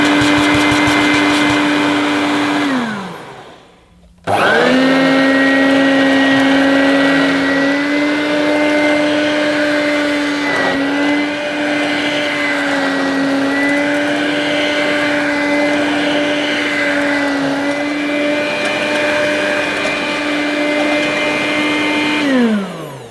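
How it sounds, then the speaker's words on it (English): A Dirt Devil Hardy hand-held vacuum cleaner runs with a loud, steady motor whine, winds down and stops briefly, then starts up again and drones on at full speed. "Very mediocre suction, but it would be okay for your lightweight jobs around the home, picking up dust and crumbs from a hard surface."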